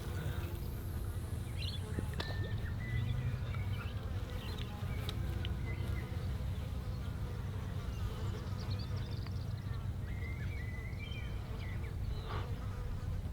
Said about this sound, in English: there are fucking mosquitoes everywhere. Flies. Oh, there's actually mosquitoes.